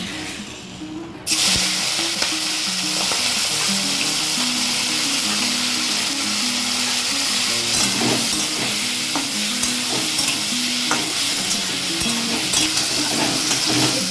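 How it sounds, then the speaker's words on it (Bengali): Prawns drop into hot mustard oil in a pan and burst into a loud, steady sizzle that carries on unbroken, with occasional stirring clatters and no voices. "এবার আমি এই সর্ষের তেলের মধ্যে, তেলটা গরম হয়ে গেছে, এবার আমি এতে চিংড়ি মাছগুলো ভালো করে ভেজে নেব"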